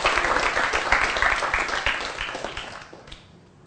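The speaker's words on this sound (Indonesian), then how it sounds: "Tepuk tangan buat kita semua." Children in an Indonesian primary school civics class clap together in a dense burst of applause that fades out toward the end.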